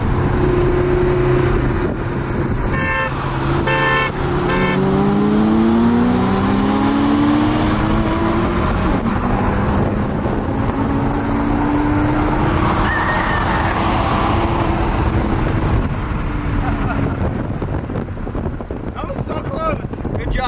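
A Porsche Cayman, the base non-S model, accelerating hard, its engine note rising in pitch through the gears under steady wind buffeting, with people talking over it.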